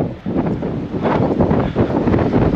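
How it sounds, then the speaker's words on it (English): Strong wind buffets the microphone with loud, continuous rumbling gusts on a windy hike near a lake at Sweet Briar College in Amherst, Virginia. "apologize for the wind."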